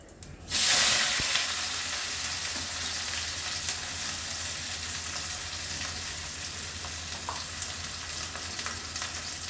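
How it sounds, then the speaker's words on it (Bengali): Dried red chillies, cumin seeds and onion hit hot oil with a sudden loud sizzle burst, then settle into a steady, close crackle that runs on alone without letup. "শুকনো লঙ্কা ফোড়ন করছি, জিরে দিচ্ছি, জিরে ফোড়ন, পেঁয়াজ দিয়ে দিচ্ছি"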